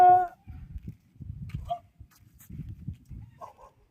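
A dog barks in short bursts nearby, with a few yips mixed in and people talking briefly.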